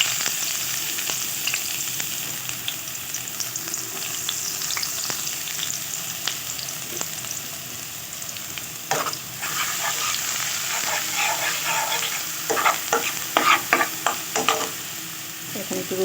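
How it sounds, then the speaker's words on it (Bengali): Onions sizzling in hot oil in a pan while being stirred, a continuous close frying hiss broken by scraping clicks from the utensil, louder toward the end. "এখন গরম তেলের মধ্যে পেঁয়াজ ছেড়ে"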